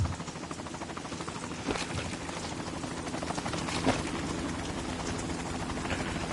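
Helicopter rotor chopping steadily from start to finish in Metal Gear Solid 2: Sons of Liberty, a dense, continuous whirring drone with a couple of brief louder swells partway through.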